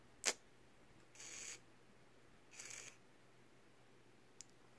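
Camera shutter fired by a remote switch after a three-second release delay: a sharp click near the start, then two brief mechanical whirring bursts and a faint final tick, each isolated against near silence.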